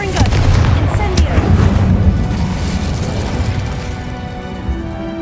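Spell blasts from Confringo and Incendio in the Hogwarts Legacy video game crack and boom in quick succession, loud and dense at first and then trailing off into rumbling echoes, with a voice calling out between them.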